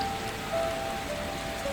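Steady rain falls outside, a constant soft hiss of drops on surfaces with a few faint tonal streaks above, filling the short stretch evenly without any voices.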